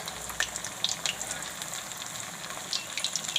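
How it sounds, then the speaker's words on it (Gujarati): Puffed rice vadi frying slowly in oil over low heat, a soft continuous sizzle with scattered small pops and crackles, close and fairly quiet. "આવી રીતે આમ ગોલ્ડન બ્રાઉન જેવી થાય એવી આપણે તળવાની છે."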